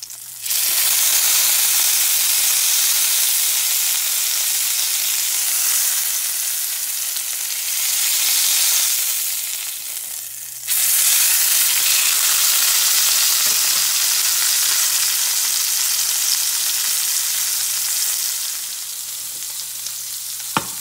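A roast searing in a cast iron skillet gives a loud, continuous sizzle and frying hiss close up. There is a brief dip partway through, and then the sizzling resumes just as strongly.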